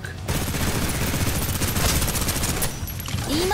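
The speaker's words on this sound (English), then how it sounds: "Suppressive fire." Suppressive gunfire in the shooter game Snowbreak: a dense, sustained burst of rapid automatic shots, loud and continuous for a few seconds before tailing off into softer game effects.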